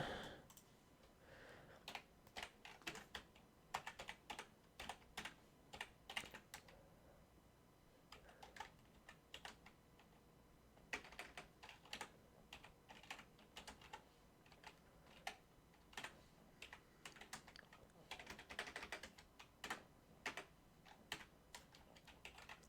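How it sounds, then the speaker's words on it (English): Someone types on a computer keyboard with their non-dominant hand, producing uneven bursts of clicky keystrokes with frequent pauses, close and fairly quiet, for over twenty seconds. "I cannot type with my non-dominant hand."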